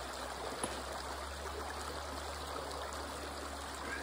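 Steady running water from a creek, a continuous broad rush with a low rumble beneath, close by and unbroken throughout.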